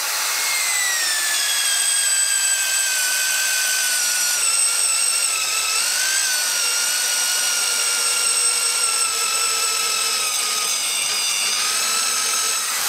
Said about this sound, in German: den Schlangenbohrer vorbereitet, damit der Meister das Loch für den Holznagel bohren kann